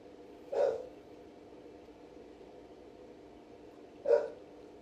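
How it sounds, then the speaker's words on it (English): Two short, muffled dog barks, fairly distant and spaced several seconds apart over a quiet indoor background hum. "I don't know what my dog's barking at"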